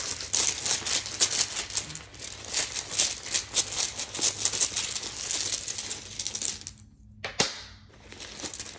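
Thick playing cards being shuffled by hand, a rapid papery riffle of flicking clicks lasting several seconds, then a brief pause and a final snap, close and clear.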